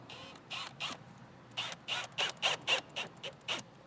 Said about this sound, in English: Reinstall the two T20 screws.